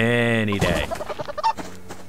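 A chicken clucks in the survival game Subsistence, rising out of a harmonic tone and fading into a few short, choppy clucks at close range under light game noise.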